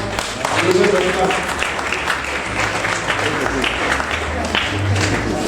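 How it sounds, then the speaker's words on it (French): A congregation in a church applauds the children, sustained crowd clapping throughout with voices mixed in beneath the steady patter. "nous allons applaudir les enfants et voir le résultat"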